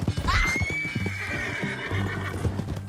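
A horse in Red Dead Redemption 2 lets out one clear, rising whinny that trails off, over steady clip-clop hoofbeats, up close and mostly free of talk.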